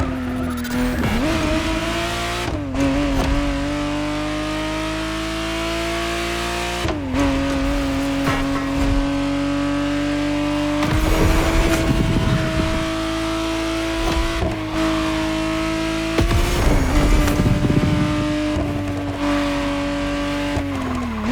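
A 1991 Ferrari Testarossa 512 TR driven in The Crew Motorfest, its engine droning steadily with pitch climbs through several gear changes and bursts of tyre squeal, loud and close, with no talking.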